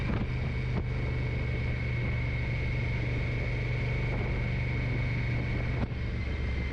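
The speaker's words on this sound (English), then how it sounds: "A nice note on the exhaust" A steady Honda NT1100 motorcycle engine and exhaust drone hums continuously with wind buffeting the microphone, a constant low rumble with no breaks.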